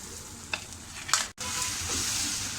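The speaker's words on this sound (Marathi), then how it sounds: "हे वाटण आपल्याला छान असं ह्याच्यामध्ये तेल सुटेपर्यंत परतून घ्यायचं आहे" Masala paste for soya chunks sautéed in hot oil, a close, steady sizzle with a couple of brief stirring scrapes and a momentary drop before the frying hiss resumes.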